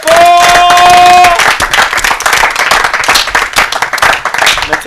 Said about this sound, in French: Applaudis très fort.